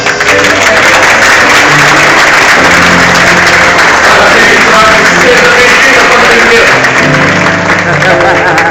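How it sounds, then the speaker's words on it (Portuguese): Congregation applauding at a church baptism service, a steady dense wash of clapping from a crowd that holds loud and continuous throughout, with voices mixed in beneath. "Uma salva de palmas."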